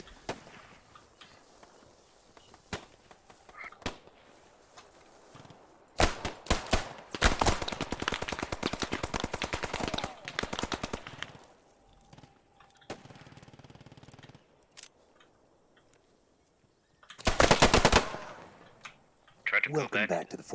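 Bursts of video game gunfire in a military shooter, with rapid automatic volleys rattling for several seconds, a dense loud burst later on, and scattered single shots and footsteps between them; voices talk over parts of it.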